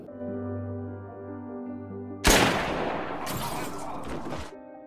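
A gunshot in a film bursts loudly and suddenly after a quiet musical passage, followed by a sharp, noisy crack and a second burst that fade out.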